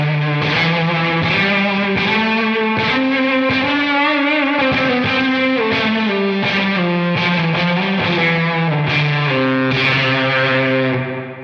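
Electric guitar played through a TONEX ONE amp-modelling pedal with EQ and reverb, loud distorted sustained chords and bends ringing continuously for several seconds, no talking.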